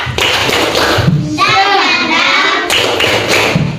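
A spirit clap led in an Indonesian children's classroom: a short rhythmic sequence of hand claps and taps, loud and close, with a child's chant-like voice across the middle stretch.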